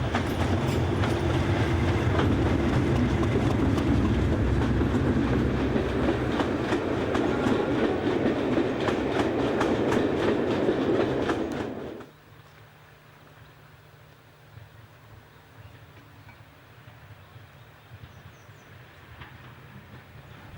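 Class 37 diesel locomotive 37003 hauls an evening train on a heritage line, a loud, steady engine roar and rolling rumble that drop away sharply midway, leaving a quieter low hum.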